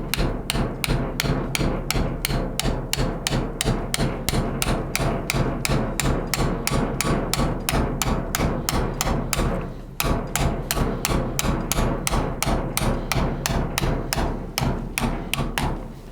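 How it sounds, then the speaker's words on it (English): Steady, rapid hammer blows on a socket driving a steering column bush into a Triumph steering column, dozens of sharp even metal strikes in a fast rhythm with one brief pause midway, loud and close. "Get the socket and just hammer it down."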